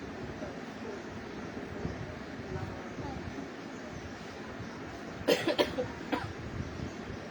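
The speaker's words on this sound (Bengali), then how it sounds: "কাশি হইতেছে" A few quick coughs break out near the end over a dull, steady background rumble.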